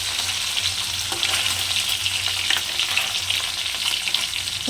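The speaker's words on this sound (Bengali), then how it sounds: "এইভাবে আমি এক এক করে সব কটা মাছ ভেজে নেব হালকা করে।" Parshe fish frying lightly in oil makes a continuous, close, crackling sizzle with soft spatter and a few stirring clicks, and no voices.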